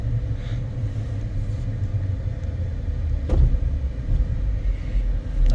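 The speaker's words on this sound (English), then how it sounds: "Just gonna drive around and get on the freeway and show you how well it accelerates." A 2023 Jeep Gladiator EcoDiesel pickup rolls along with a steady low cabin rumble of engine and road noise, and a short thump lands about midway through the drive.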